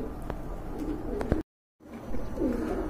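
Pigeons in a loft coo softly in low, rolling phrases against a background hum, broken by a short gap of silence before the cooing resumes.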